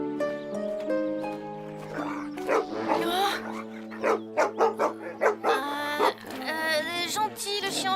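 A cartoon dog barks in a few short, punchy yaps over a busy animated soundtrack with music and character voices, the barks clustered in a quick rhythmic burst near the middle.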